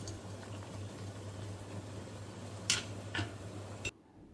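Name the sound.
rice boiling in a pot on the stove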